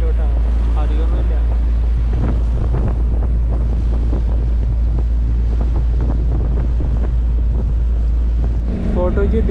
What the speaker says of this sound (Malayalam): ഈ ബോട്ട് ജെട്ടിയിലേക്ക് വണ്ടി എടുപ്പിക്കുകയാണ്